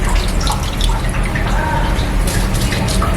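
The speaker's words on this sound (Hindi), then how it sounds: "थोड़ा सा पानी निकाल लेते हैं" Close, steady dripping and trickling as water drains off rice being washed by hand for mutton yakhni pulao, a continuous wet splashing with no break.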